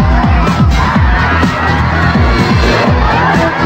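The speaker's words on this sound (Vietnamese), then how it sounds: "bà con cổ vũ rất mạnh" A studio audience at a Vietnamese television game show cheers loudly, a roaring crowd with shouts and whoops over rhythmic thumping beats, close and energetic throughout.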